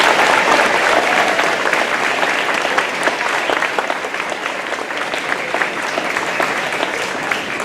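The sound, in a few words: audience applause for string students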